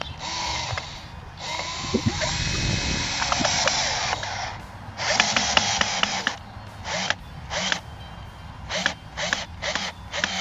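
Screw driven into very hard wood for a raised garden bed with a power driver, grinding and whirring in long strained bursts, then a series of short stuttering pulses as it bites, loud and close.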